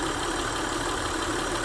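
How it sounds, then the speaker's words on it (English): A 2001 Honda Accord V6 engine idles smoothly and steadily, recorded up close with a constant even drone and no voices. "But the engine's just, look at that. Just smooth as can be."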